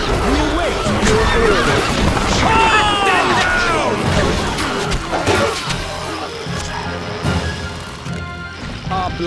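Horses whinnying and hooves clopping during a castle siege in a strategy game, shrill rising neighs over a busy layer of crashes, thuds and clatter, loud at first and then easing into a lower rumble, with voices talking intermittently.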